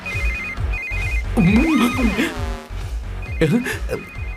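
A phone ringtone plays a repeating electronic melody in short bursts in a scene from the film Salaar, while music and voices sound loudly over it.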